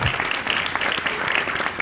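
Steady audience applause at a Hindi poetry recital, a dense wash of many hands clapping throughout, continuous and moderately loud.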